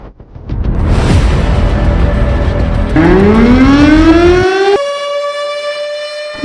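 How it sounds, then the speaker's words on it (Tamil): A loud wailing factory emergency siren rises and holds a piercing tone, its pitch sliding upward in stages and sustained without voices. "எனக்கா ஃபேக்டரியில இருந்து அபாய சத்தம் கேக்குது?"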